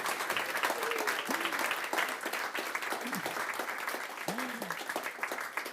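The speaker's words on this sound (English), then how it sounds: "Can we get a big round of applause," Sustained, dense applause from an audience at a climate change event in The Hague, with a few voices calling out briefly over the steady clapping.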